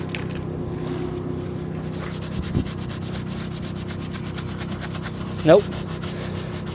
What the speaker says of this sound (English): Let me just see if I can get a ninja scrubber to take those off.